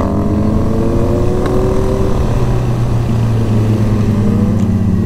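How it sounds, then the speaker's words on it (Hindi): Loud sport motorcycle engine, a Honda CBR, drones steadily while riding along a road past fields and hills, with sustained rising and falling tonal engine notes and constant wind rush throughout. "भाई की बाइक बहुत लाउड है"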